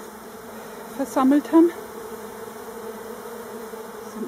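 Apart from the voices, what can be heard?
honeybees buzzing around an opened Warré beehive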